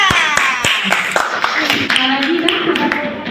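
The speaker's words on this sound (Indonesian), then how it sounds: "silakan tepuk tangan buat kelompok merah" A classroom group claps hands in short bursts and scattered taps during a teaching performance, close by and mixed with voices talking over it.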